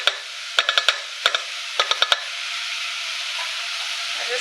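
Spicy beef stewing in a pot, a steady close hiss of simmering broken by quick clusters of sharp spoon clicks against the pot as it is stirred, then continuing alone.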